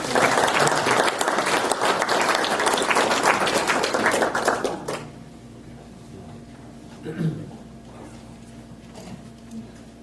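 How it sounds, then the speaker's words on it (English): An audience at a county candidates forum applauds the master of ceremonies as he approaches, loud dense clapping for about five seconds that stops abruptly, leaving a quiet room with faint shuffles. "So if you give him a round of applause as he approaches."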